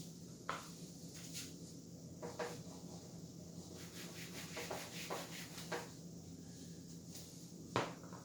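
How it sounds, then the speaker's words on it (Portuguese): An eraser rubbing writing off a board in a classroom, soft scraping strokes in short repeated passes with occasional light knocks, faint and close. "Agora eu já posso apagar isso"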